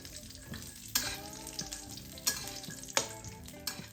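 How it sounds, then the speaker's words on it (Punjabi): Cashews and almonds are lightly roasted in a pan, stirred with a utensil that knocks and scrapes the metal several times over a soft, continuous sizzle, all close and without talk. "ਕਾਜੂ ਤੇ ਬਦਾਮ ਨੂੰ ਆਪਾਂ ਹਲਕਾ ਜਿਹਾ ਭੁੰਨ ਲਵਾਂਗੇ"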